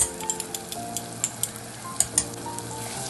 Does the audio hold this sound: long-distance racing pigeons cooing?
no